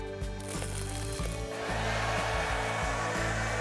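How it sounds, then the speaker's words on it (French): A hair dryer switches up and blows with a steady, loud whoosh, with music playing underneath. "Mais ce sèche-cheveux fait l'effet inverse?"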